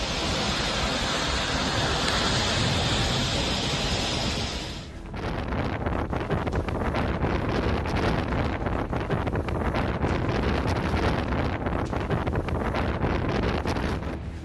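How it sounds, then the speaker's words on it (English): Powerful typhoon winds in Okinawa, Japan roar as a loud, continuous blast buffeting the microphone, with a brief dip midway before the heavy gusting resumes. "The Japanese prefecture of Okinawa was affected by a quite powerful typhoon"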